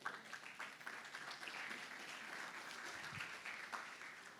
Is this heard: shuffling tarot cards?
no